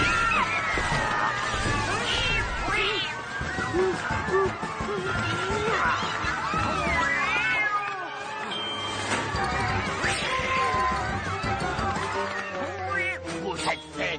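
Cartoon cats meow and caterwaul amid crashing noises and busy cartoon music, with voices talking throughout in a chaotic, loud scene.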